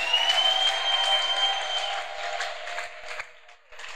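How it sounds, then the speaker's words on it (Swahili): Church congregation applauding together after the preacher calls for clapping, a dense steady wash of hands that fades slightly toward the end, with no talking over it. "Esko unaweza shangilia kwa makofi?"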